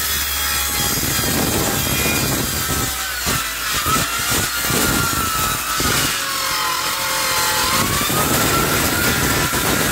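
A hand saw cuts through wood during a furnace install, making a steady, loud rasping back-and-forth sawing that briefly stutters and catches on something thick midway, then runs on smoothly.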